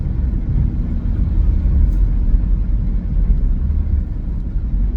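A car that is running bumpy and needs maintenance gives off a loud, steady low rumble, a continuous dense drone with slight wavering and no talking.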